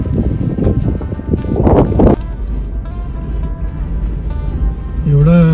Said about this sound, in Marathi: वारा प्रचंड आहे, त्याच्यामुळे गारवा पण खूप आहे आणि त्याच्यामुळे थंडी वाजते